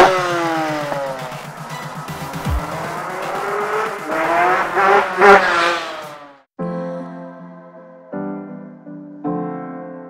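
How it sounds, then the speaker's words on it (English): Prototype 250cc liquid-cooled twin-engine Lambretta scooter, loud and close, revving up through rising and falling pitches for about six seconds, then a pause and three steadier bursts of engine running. "this is the first prototype of a 250cc liquid-cooled twin engine for an Lambretta"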